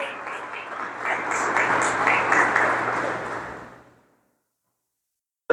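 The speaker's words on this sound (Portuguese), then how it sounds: "Pode aplaudir o Senhor." A church congregation applauds in a steady, broad wash of clapping that lasts about four seconds, then fades out and leaves silence.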